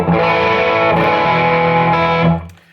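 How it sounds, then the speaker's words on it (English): An electric guitar runs through a Chase Bliss high gain overdrive pedal, one sustained, heavily distorted chord ringing loud and thick for about two seconds before quickly fading out. "So now we're on the high gain overdrive"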